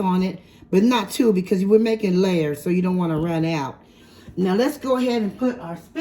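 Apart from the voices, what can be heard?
No everyday noise stands out behind the speech.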